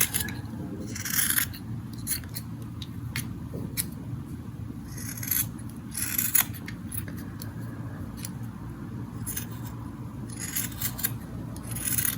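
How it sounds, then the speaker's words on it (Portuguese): Scissors trim the fringe of a macramé cord piece, producing a run of short, sharp snips and rasping cuts at close range, irregularly spaced over steady low background noise. "agora é só alinhar aqui com uma tesoura"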